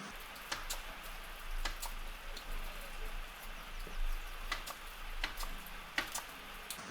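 Steady rain patters down around a plumbing installation site in a small, forgotten ghost town, with scattered sharp drips and ticks over a continuous wash and a low hum underneath.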